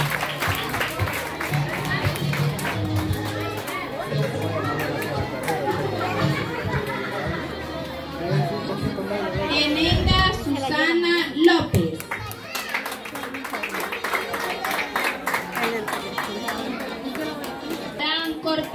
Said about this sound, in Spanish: Regalémosle un fuerte aplauso.